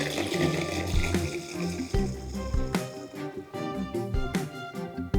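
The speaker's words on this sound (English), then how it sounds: "Once washed, you can drain the cranberries into a colander." Washed cranberries draining in a colander, water running and splashing steadily with scattered clattering taps, fairly loud and continuous with no talking.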